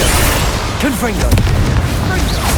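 A Confringo blasting spell explodes in Hogwarts Legacy, a loud booming burst amid dense combat noise, with a voice calling out over it.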